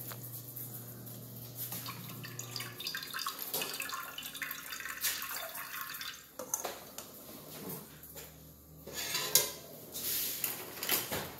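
Water runs and splashes in a kitchen sink while cooked ground beef drains in a colander, with clattering dishes and a drawer opening or closing partway through, all fairly close, with no voices.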